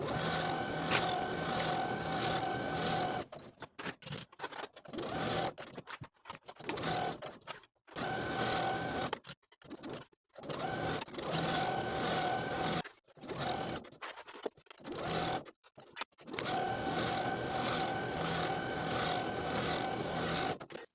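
A sewing machine stitches along the notched collar of a women's suit jacket, its steady close whir running in several long bursts broken by brief pauses where the fabric is pivoted at the collar point.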